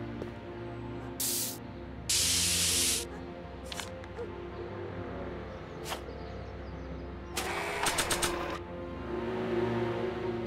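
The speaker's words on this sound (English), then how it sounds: "Spray paint." Spray paint can hissing in the Back to the Future video game, with several bursts of bright hiss of varying length, one long sustained spray and a later cluster of short rattly puffs, over a steady game background hum.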